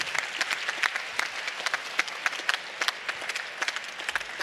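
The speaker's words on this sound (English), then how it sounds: "Let's hear a big round of applause for our host, Moscow Institute of Physics and Technology" Audience applause at the closing ceremony of the 2020 ICPC World Finals, honoring host Moscow Institute of Physics and Technology: steady, dense clapping from a large crowd throughout, with sharp individual claps standing out.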